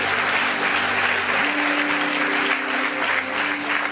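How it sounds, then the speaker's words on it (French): Sustained applause from a large crowd, dense steady clapping throughout with a faint tone humming underneath. "l'acclamation est une manière d'exprimer sa gratitude pour Dieu."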